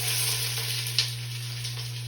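Onions dropped into hot canola oil in a pot give a steady, loud sizzle and crackle throughout, with a brief sharper spatter near the middle and a constant low hum beneath.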